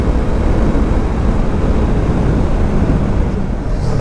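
A Yamaha R3 motorcycle runs at high speed, producing a loud, continuous roar blended with rushing wind noise that stays steady for several seconds, with no speech.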